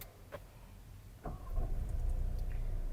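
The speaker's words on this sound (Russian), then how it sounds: "Да, запускается он, и как все остальные автомобили, без всяких проблем." A VW Tayron diesel engine catches after a short quiet moment and then holds a steady low idle rumble heard from close by, with no voices.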